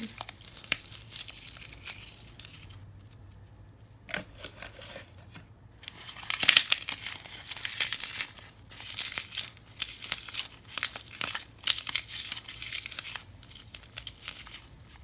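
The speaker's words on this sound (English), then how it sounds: "Now you want to get your foam and crush it up and mix it in the slime." Foam pieces are crushed and worked into slime by hand, making close crinkly crackling and tearing sounds in irregular bursts, with a short quieter pause partway through.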